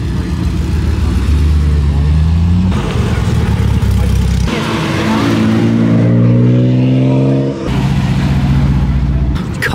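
Yellow TVR 350i sports car rolling past on a road, its engine note rising and falling in pitch as it nears and moves away, loud and close, with other engine sounds between passes.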